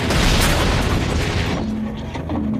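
An AT-4 anti-tank weapon is fired, a loud broadband blast that stays heavy for about a second and a half before a rumbling tail with a low droning tone.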